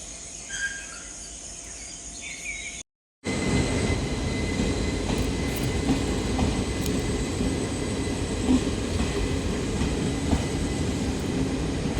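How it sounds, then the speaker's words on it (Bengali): A passenger train pulls into a railway station in the early morning, a loud, steady rumble of wheels and carriages that fills the whole stretch after a brief drop-out, with no voices. "ট্রেন কিন্তু স্টেশনে ঢুকে গেছে দেখেছো"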